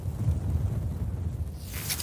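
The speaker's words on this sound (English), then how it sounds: "Big gust." Strong outdoor wind gust buffets the microphone at an archery range, a dense low rumble that holds steady for about two seconds before easing, with no voices.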